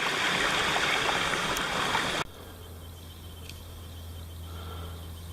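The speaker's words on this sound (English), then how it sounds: "A lot of creeks." Creek water rushing through wooded Cataloochee Valley in the Great Smoky Mountains, loud and broadband for about two seconds, then dropping to a quieter, steady flowing murmur for the rest.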